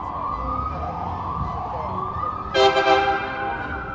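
An emergency vehicle siren wails in the distance on a New York City street, then a short burst of louder, higher whooping chirps breaks in before fading back.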